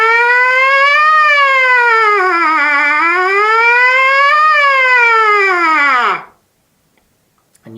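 A trumpet played as a siren exercise, its pitch sliding smoothly up, down, and up again in one long sustained brassy tone. It sounds loud and close, then cuts off abruptly into silence near the end.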